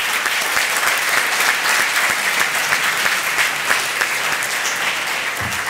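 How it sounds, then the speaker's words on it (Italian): An audience at a corporate general meeting applauds in tribute, sustained dense clapping from a large crowd that holds steady and close for several seconds. "che questo applauso glielo dobbiamo."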